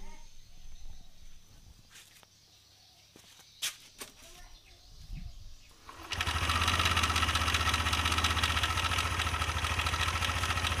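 Yamaha NMAX scooter with its CVT rollers removed starts up after quiet clicks and faint voices, then runs loud and steady with a rough, buzzing idle that fills the rest of the clip.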